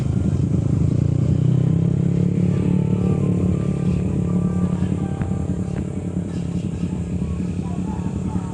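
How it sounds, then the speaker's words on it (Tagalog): Four motorcycles at a track day fun race, a steady loud engine drone with revving and some clatter throughout, people talking over it. "Apat na motor."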